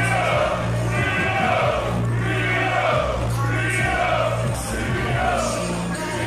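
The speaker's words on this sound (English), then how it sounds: "Crowd doing the cheering there." Wrestling crowd at an NCL event cheering and shouting in repeated swells, loud and dense throughout, with voices rising together.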